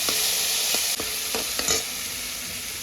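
Tomato roasting in a hot pan for a Marathi duddi (bottle gourd) bhaji, with a steady sizzle broken by a few sharp spoon clicks against the pan as it is stirred.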